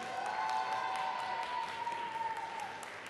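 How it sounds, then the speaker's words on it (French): Steady applause from a crowd at a winemakers' cooking competition, fairly quiet, with a faint sustained tone running through it. "Stéphane Pichat et Richard Domer qu'on applaudit."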